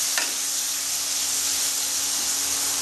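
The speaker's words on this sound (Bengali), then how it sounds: "এগুলো খুব ভালো করে ভেজে নেবো আমি করলাগুলো।" Bitter gourd pieces frying in a pan, a loud, continuous dense sizzle with a brief sharp crackle at the start, steady throughout with no voices.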